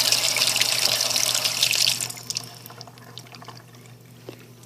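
Cold household tap water runs from a faucet in a smooth, hissing stream that cuts off after about two seconds, leaving soft drips and a low steady hum.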